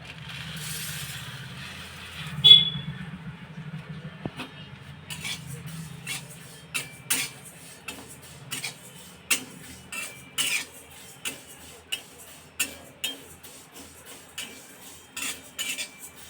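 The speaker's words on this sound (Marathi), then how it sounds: "आता आपण ही सोप टाकणार आहोत" Fennel seeds dry-roast in a pan for Malvani masala while a utensil stirs them, making a series of sharp, fairly regular clinks and scrapes against the pan over a soft background.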